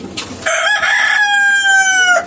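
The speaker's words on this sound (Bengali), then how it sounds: "মোরগ মোরগটা দেখছেন খালি চিল্লায়" A rooster crows once, loud and close, a long drawn-out call with a ringing tone that holds for nearly two seconds before trailing off, preceded by a brief scuffle of softer noise.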